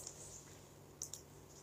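Two quick, faint clicks of a computer mouse, about a tenth of a second apart, set against a quiet room hum with no talking.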